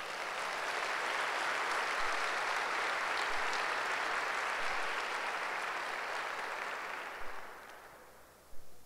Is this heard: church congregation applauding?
yes